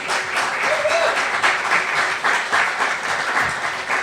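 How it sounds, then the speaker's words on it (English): Sustained applause from an audience at an evening program on Oregon cap-and-trade legislation, a steady, full wash of many hands clapping that holds evenly for several seconds. "Let's give her a round of applause for that."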